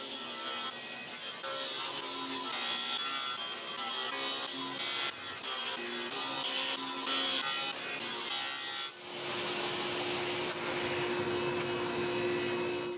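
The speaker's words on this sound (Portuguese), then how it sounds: "Depois que eu cortei todos os painéis grandes em tamanhos mais fáceis de manusear, pude então cortar todas as peças individuais na serra de bancada." A table saw cutting wooden panels into pieces, a steady loud whirring cut that runs continuously, briefly dipping before the blade spins on alone.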